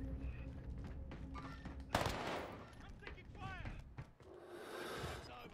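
Gunfire in a team-based shooter video game, heard as bursts of sharp cracks and a louder volley partway through, mixed with game sound and close talk from players.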